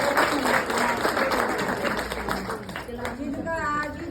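Hand clapping and applause from a gathered group at an Om Shanti spiritual meeting, a dense continuous patter of many hands with voices mixed in underneath, moderately loud throughout.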